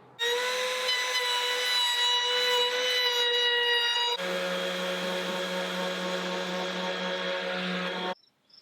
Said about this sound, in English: So I'm gonna chamfer it over and stop about 5 inches short